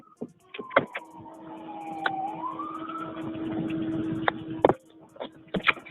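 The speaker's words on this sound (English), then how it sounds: "So now we finally hear some sirens coming up." Police sirens wail in the distance and slowly swell, rising and falling, while sharp clicks and knocks sound close by.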